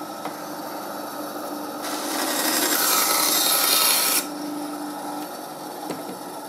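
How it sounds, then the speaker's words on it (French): A band saw cuts through wood, a loud broadband rasp from about 1.8 to 4.2 seconds that rises abruptly and stops sharply, with the machine's steady motor hum running before and after the cut, alone with no talk. "On va faire une petite découpe. Donc, on va pas couper sur le trait, on coupe plus large,"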